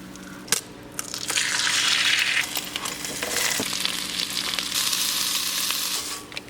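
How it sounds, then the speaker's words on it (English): Eggs frying in a pan give a loud, steady hiss and crackle that swells and settles over several seconds, with a couple of sharp clacks near the start, close up and with no talk. "I'm about to cook some eggs for myself"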